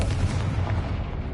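Bombarda and Confringo spell explosions in the Hogwarts Legacy video game on PS5, heard as a loud, sustained, rumbling blast with heavy low boom that fills the short moment without any speech.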